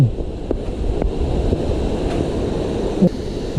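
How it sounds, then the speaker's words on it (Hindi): The Kaiyoda waterfall in Keonjhar, a 150-foot drop, sends a steady, dense roar of rushing water, loud and unbroken throughout with no voices. "देखो वाटरफल वर्षा दिन में बहुत जोर पानी आसे"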